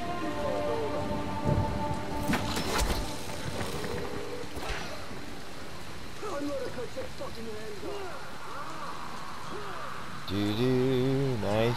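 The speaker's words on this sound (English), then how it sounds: "Oh, now it's raining." Rain pours in the video game Dying Light: The Following, a steady hiss of falling drops with clattering hits early on, while voices and tonal game sounds rise over it.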